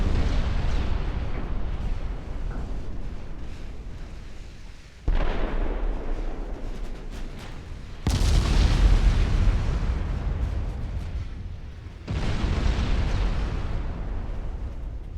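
Battleship gunfire in the naval combat game Ultimate Admiral Dreadnoughts: four heavy booming salvos, each a sudden blast rolling into a long rumbling decay, spaced several seconds apart, with no talking.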